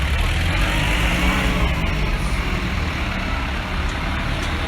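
A Deutz-Fahr Agrotron 95 tractor rolls past at an agricultural fair in Inveruno, a steady low diesel engine rumble with some higher mechanical rattle, loud and continuous against background crowd murmur.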